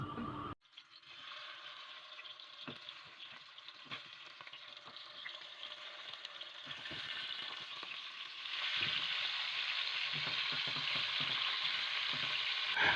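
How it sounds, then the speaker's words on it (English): Chicken legs sizzle and fry in hot oil in a casserole over medium heat, a steady crackling hiss that swells louder near the end, with faint clinks of stirring. "Put oil in a casserole over a medium heat, and when it is hot, add the things."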